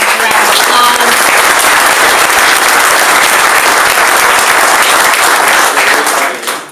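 A crowd at an election night event in an Elks Lodge breaks into loud, sustained applause, a thick wash of clapping that holds steady and then fades out at the end.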